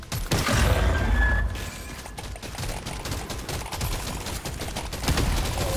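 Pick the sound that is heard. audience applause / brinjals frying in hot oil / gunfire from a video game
gunfire from a video game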